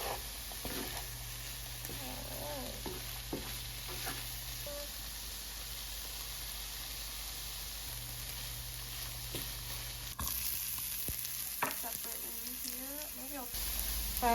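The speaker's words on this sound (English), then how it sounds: "Let's saute up the hearts of palm in some oil." Shredded hearts of palm sauté in hot oil, giving a steady, fairly quiet sizzling hiss that runs throughout, with occasional soft stirring taps and faint talk underneath.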